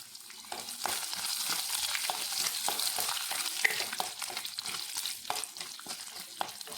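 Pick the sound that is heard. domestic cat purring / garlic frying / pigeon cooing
garlic frying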